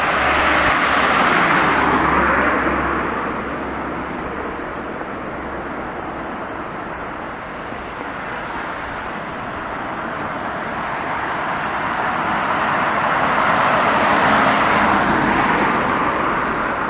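Steady roar of cars passing along a quiet seaside promenade road on an early Sunday morning, swelling loud at the start and end with a softer, continuous traffic hum between.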